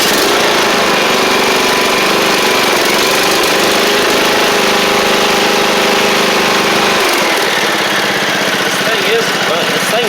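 Troy-Bilt Bronco lawn tractor with a Powermore engine running steadily, loud and close, a continuous droning hum with a slight change in tone near the end.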